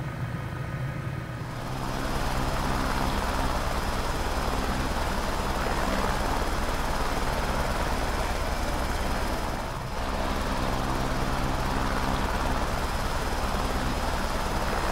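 Steady, loud turbine whine and rotor drone of an H125 helicopter cruising over the sea in Microsoft Flight Simulator, continuous with a brief dip partway through, no talking.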